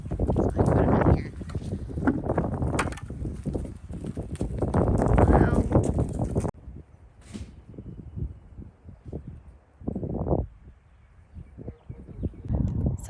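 Horses walk along a residential street, their hooves clip-clopping in irregular close clusters amid wind rumble on the microphone, with bursts of nearby talk.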